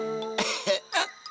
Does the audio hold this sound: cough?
yes